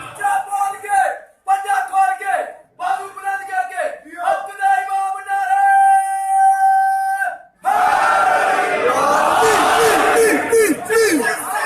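A crowd at a religious gathering chants slogans: a single voice leads with several loud shouted calls, then the massed crowd answers in a dense, roaring chant that fills the last few seconds.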